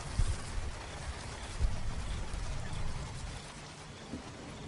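Steady rain falls on open savanna grassland, a dense, even hiss of drops holding constant throughout with no voices over it.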